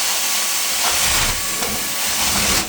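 Carpet extractor rinsing a trashed old commercial carpet, a steady loud hiss of spray and suction running continuously with slight surges, close by and with no voices.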